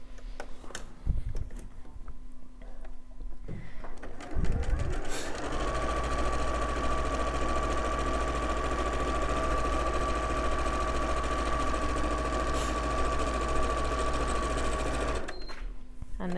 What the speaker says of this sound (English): we're going to sew along that top raw edge. Again, just using that 1/4 inch seam allowance.